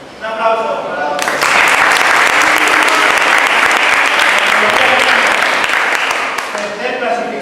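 Audience applause at a youth sub-17 and junior regional championship award ceremony in Valencia, a dense, sustained burst of clapping that starts abruptly and continues loudly for several seconds after a brief announcer's voice.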